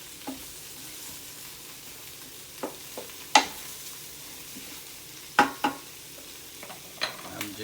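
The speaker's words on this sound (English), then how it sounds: "Now we just give it a nice good stirring for a minute." Quiet, steady sizzle of honey shrimp frying in a pan, punctuated by sharp clicks and scrapes of a utensil stirring against the pan at irregular intervals.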